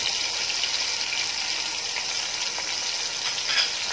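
Chicken frying in a pan with salt, turmeric and garam masala, giving a steady, loud, continuous sizzle and hiss throughout with no pauses.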